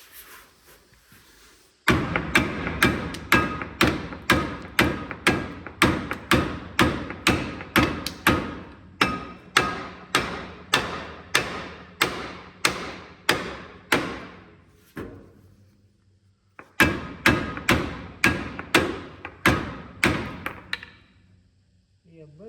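A hammer pounds the body of a 1968 GMC truck in a long run of loud, steady metallic blows, roughly two per second, breaking off briefly near the end before a second burst of strikes.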